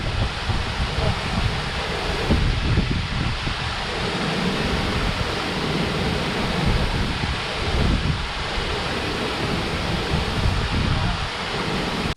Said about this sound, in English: The waterfall is so loud, guys